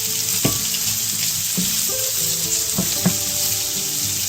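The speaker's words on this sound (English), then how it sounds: "when you're caramelizing the onions, you're sweetening them up" Onions caramelizing and potatoes toasting in a frittata pan give a steady, close sizzle, with a few sharp clinks and scrapes from stirring.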